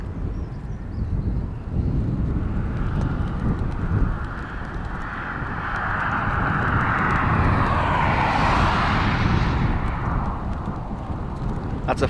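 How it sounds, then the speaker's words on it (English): A jet airliner landing at Dublin Airport in a strong crosswind, a loud, steady roar that swells and sweeps past near the middle and then holds over constant wind and outdoor rumble. "That's a full-on crosswind for these landings now"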